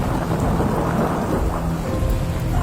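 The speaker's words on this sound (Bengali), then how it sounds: "সাথে সাথেই শুরু হলো প্রচণ্ড ঝড়, তার সাথে প্রবল বৃষ্টি।" Heavy rain pours steadily alongside rumbling thunder in a storm, a dense, loud wash of sound with no voices present.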